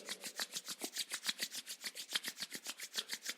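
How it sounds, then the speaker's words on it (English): Palms rub briskly back and forth in a quick, even rhythm of soft swishing strokes, close and fairly quiet, during a yoga session with no talking. "let's generate some energy between our palms by rubbing them against each other"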